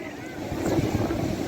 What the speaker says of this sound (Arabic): عشان في هوا خلي بالك